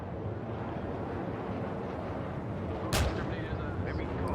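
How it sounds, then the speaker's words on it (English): A missile launches during a MiG-29 dogfight in VRChat. One sharp, loud whoosh-bang cuts through a steady roar of jet and wind noise partway through. "but Chippy unloosed a missile, did not find any purchase"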